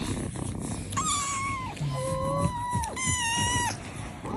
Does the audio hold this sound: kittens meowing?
yes